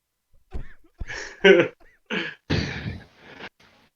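A close, harsh fit of coughing: several separate bursts in quick succession with short gasping pauses between them.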